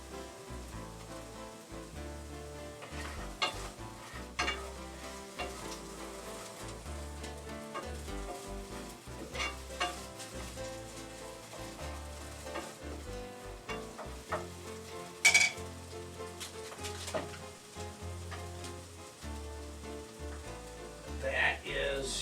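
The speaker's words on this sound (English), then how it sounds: "Throw in the onions. Give it all a stir." Onions sizzle in a pan with butter for beef bourguignon, a continuous frying hiss with occasional stirring scrapes and one sharper knock partway through, heard close beneath a faint background of music.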